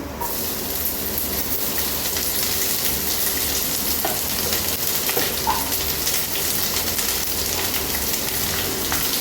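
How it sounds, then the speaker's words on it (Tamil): Finely chopped cabbage fries in a pan with ginger and garlic that have turned golden, giving a steady, dense sizzle that stays loud and even throughout. "இப்போ பொடிசாக கட் பண்ணி வச்சுருக்க முட்டைக்கோஸை இதில் சேர்த்துடலாம்."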